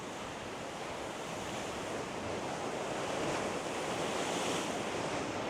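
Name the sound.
waves on a beach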